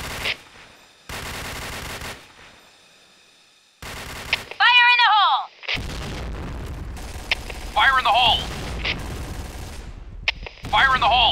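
In the video game Point Blank, loud gunfire bursts and explosive booms go off with gaps of silence between them, while voices shout over the din.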